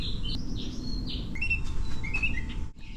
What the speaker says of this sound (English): birds are just singing away out there.